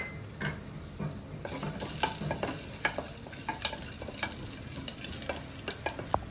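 Cumin seeds crackle and sizzle in hot oil alongside cinnamon and dried red chilli for a dal makhani tempering, with steady frying hiss, a few sharp pops and stirring clinks throughout, close up.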